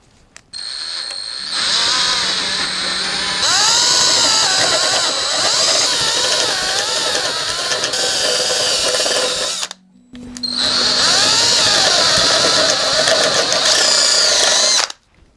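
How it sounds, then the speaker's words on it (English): A step drill bit whines steadily as it enlarges holes in a wooden neck-through guitar body, in two long sustained bursts separated by a brief pause, close and loud. "I'm going to use a step drill bit to enlarge those holes"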